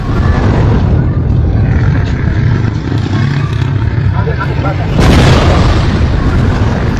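A loud boom bursts out over a constant roar of rumbling noise, followed by continued heavy rumble.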